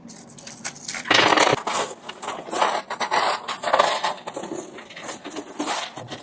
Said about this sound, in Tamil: எல்லாமே இலங்கையினுடைய நாணயங்கள் 10 ரூபாய் நாணய குட்டிகள்